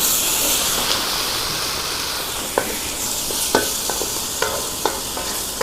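Garlic and ginger paste frying in hot oil, stirred in a pan for a beef dry fry, with a steady close sizzling hiss and a few sharp scraping clicks of the spoon, no voices.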